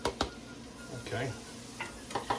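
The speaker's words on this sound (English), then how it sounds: "you hear it sizzling now?" Vegetables sizzle in olive oil in a pan, a faint, steady hiss with a few light clinks of a utensil against the pan.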